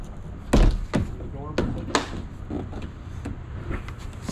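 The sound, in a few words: A-frame pop up camper door opening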